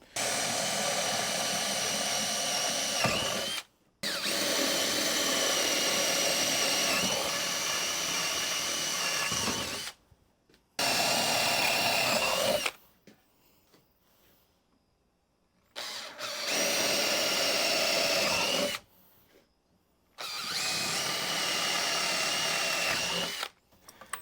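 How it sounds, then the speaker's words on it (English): A power drill whines loudly through several holes in 2x6 boards, in repeated long bursts separated by brief pauses and quieter gaps, heard close with no talking. "We're gonna drill some holes in our 2x6s here"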